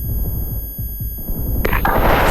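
A grenade goes off in the shooter game Special Force, a loud burst of noise near the end following a stretch of rumbling low thumps.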